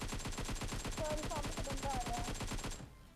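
PUBG Mobile gunfire: a rapid, evenly spaced automatic burst rattles loudly for nearly three seconds, then cuts off abruptly.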